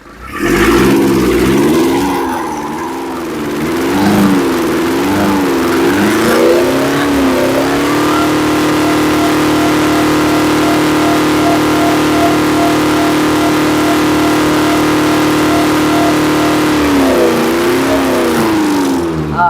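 A Nissan Urvan van engine, one that stalls by itself and puts out white smoke, runs steadily and close. It revs in wavering surges over the first several seconds, then holds a high, even drone to the end.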